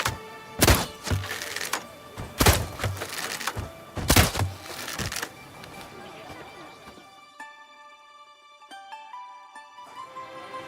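Shots and thuds at red targets in The Witcher 3: Wild Hunt Blood and Wine, several loud impacts in the first half, then quieter game music.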